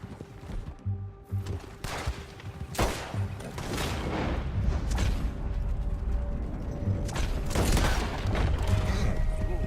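Scattered gunshots ring out in a Red Dead Redemption 2 firefight, several sharp cracks over the first few seconds, then a steady bed of ambient game noise and mechanical sounds.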